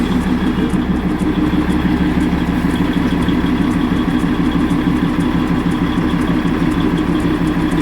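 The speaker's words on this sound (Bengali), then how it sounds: "টয় ট্রেনের কামরার সঙ্গে ইঞ্জিন জোড়ানোর প্রক্রিয়া চলছে" A Darjeeling toy train locomotive idles steadily while being coupled to its passenger coach, giving a continuous loud low rumbling drone with an even mechanical throb and no talk.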